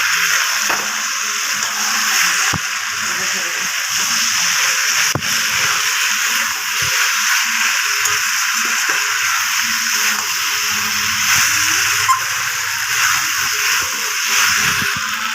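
Eggplant and small mourala fish sizzle steadily in a pan of hot oil as they are stirred, a constant broadband hiss with occasional scraping and clinks, no talk.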